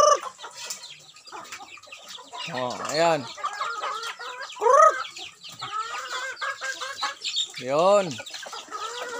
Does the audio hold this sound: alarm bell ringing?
no